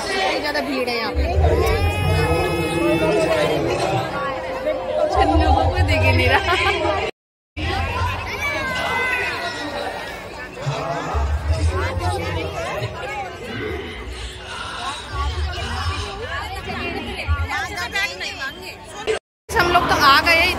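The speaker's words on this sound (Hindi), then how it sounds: "इतनी ज्यादा भीड़ है ना, पूछो मत।" A packed crowd at a live gathering with Shri Aniruddhacharya ji Maharaj fills the air with continuous overlapping chatter, scattered chuckles and occasional whoops, steady and close with two brief dropouts.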